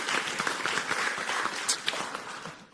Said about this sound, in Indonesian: tepuk tangan dulu untuk regu A.